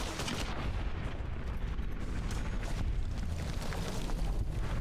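A grenade rifle fires in Fallout New Vegas amid dense, continuous, loud combat noise, with repeated booming shots and blasts blending together and no talking.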